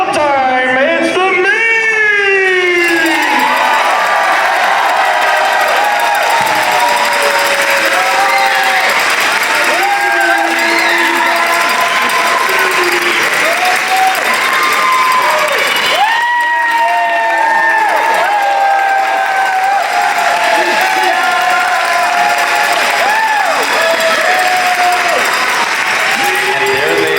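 A large audience at a Classic Tetris grand final cheers loudly and continuously, with whoops, shouts and applause filling the hall, and excited voices rising above the roar throughout.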